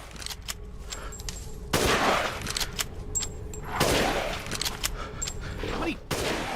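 Sniper rifle fire in a Resident Evil video game, two heavy booming shots a couple of seconds apart over a busy background of smaller gunfire and game noise.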